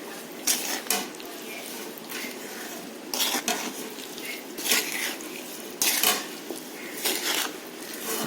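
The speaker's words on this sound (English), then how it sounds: "I will add the mangoes in it. Give a good mix." Raw mango pieces for avakkai pickle tossed and mixed in a bowl, giving repeated bursts of clattering and scraping in an irregular rhythm, close and moderately loud with no talking.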